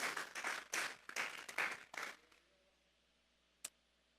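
A church congregation claps in a few uneven bursts of applause that fade out after about two seconds, leaving quiet room tone broken by one sharp click.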